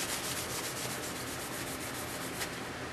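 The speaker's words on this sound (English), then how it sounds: "just lightly rub everything, and this is kind of like a pre-cleaning before I shoot" Model airplane parts for a Corsair build being lightly rubbed with a wet cleaner before painting: a steady, soft, continuous rubbing hiss close up, with no talk.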